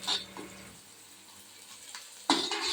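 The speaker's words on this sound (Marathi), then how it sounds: "आता हे छान परतून घेऊया." Garam masala and homemade red chilli powder frying in a pan for egg bharit, with a soft sizzle and short clattering bursts of stirring near the start and again near the end.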